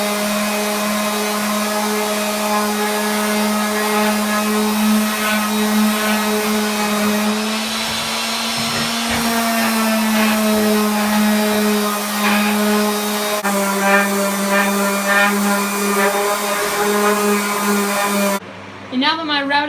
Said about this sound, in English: now that my routing and sanding is done